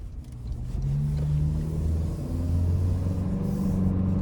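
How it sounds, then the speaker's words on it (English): A 2025 Toyota Land Cruiser with the iForce Max engine accelerates on the road, a steady low engine drone rising in pitch as it gains speed, heard from inside the cabin with road rumble underneath. "take this 2025 Toyota Land Cruiser iForce Max out on the road for a test drive"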